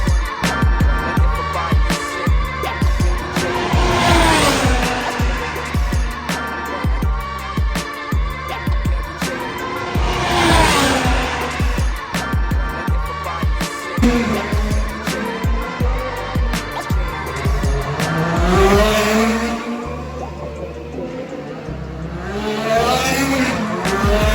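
IndyCar race cars at the Toronto Indy street race roar past in repeated loud passes, engine pitch sweeping up and down with tire squeal and crowd-level background noise throughout.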